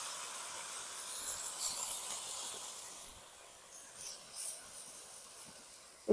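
Water poured into a hot pan of fried vegetable stalks and potatoes hisses steadily, a broad sizzling and steaming sound that swells and fades over several seconds, close and alone.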